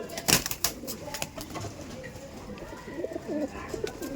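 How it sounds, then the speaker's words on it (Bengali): Male pigeons cooing softly inside a loft, with a sharp flutter-like burst near the start and then low, rolling coos that come and go over faint background noise. "এই দেখুন, এটা আছে মেল পায়রা, মেলের লেগটা দেখে রাখুন, মেলের বডিটা দেখুন"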